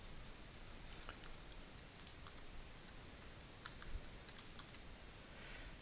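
Keys tapped on a Mac computer keyboard while entering a password, a string of faint, quick clicks in uneven bursts over a quiet background, with no talking.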